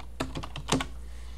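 Brief bursts of computer keyboard typing on a Linux Mint 15 system, a handful of quick key clicks close by, with no voices.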